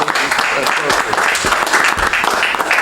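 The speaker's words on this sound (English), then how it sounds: "Another round of applause." An audience at a town board meeting breaks into applause for department members, a dense wash of clapping with voices mixed in underneath, sustained and fairly loud throughout.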